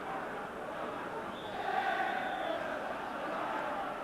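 A big, noisy football crowd fills Easter Road stadium with a steady, distant roar, swelling briefly in the middle.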